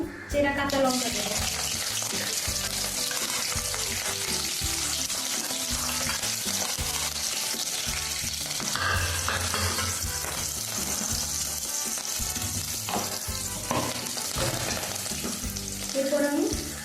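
Slit green chillies fry in hot oil with cumin seeds, stirred around a pan for a light fish and bottle gourd curry. The sizzle is loud and steady throughout, with the scrape of stirring on top.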